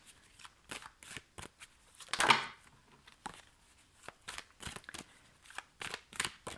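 Tarot cards shuffled by hand ahead of a reading, a close series of quick papery riffles and slaps with short pauses, one longer burst midway, no voices.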